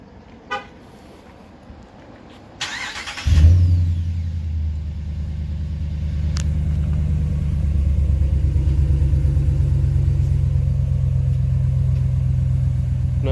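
A Ram 1500 with the 5.7L engine, JBA shorty headers and a Totalflow 18-inch muffler cranks and fires up after a few faint clicks and a brief chirp, then settles into a loud, deep, steady idle rumble.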